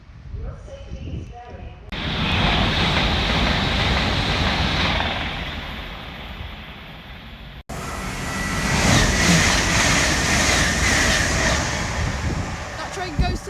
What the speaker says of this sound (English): Look at that train in action. It's a class 387 from Paddington.